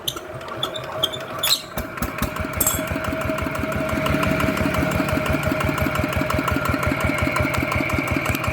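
An ET80 small diesel engine, upgraded to 90 and used as a canal water pump on a fishing vehicle, runs after assembly. It chugs at a steady fast idle up close, with a fan whirring and a few clanks at the start.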